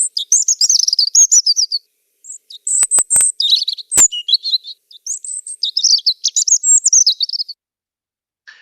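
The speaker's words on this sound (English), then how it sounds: "So if it's a quick random song that you're hearing, it's probably a rushed random robin." European robin delivers quick, rushed phrases of high, thin warbling song in several bursts separated by short pauses, close and clear with no other sounds.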